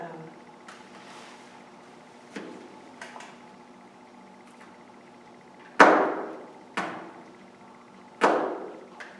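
A knife slices through garlic on a hard board, making several sharp knocks at irregular intervals, a few faint and three louder, close and distinct above a quiet room.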